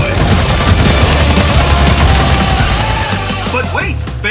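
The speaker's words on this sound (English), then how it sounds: "I was just gonna shoot dudes anyway." Gunfire from the video game Battleborn, a loud, dense burst of rapid shots and booms running continuously, thinning toward the end.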